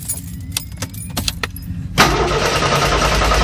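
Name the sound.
car engine starting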